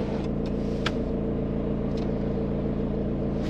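Steady drone of a 1998 Renault Mégane Coupé's 1.9 DTI diesel engine heard from inside the car while driving, a constant low rumble with a whining hum, with no talking.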